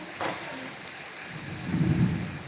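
Rain and thunder in the battle royale game Free Fire: a low rumble of thunder rolls under a steady hiss of rainfall, swelling near the end of the short stretch, with no talk.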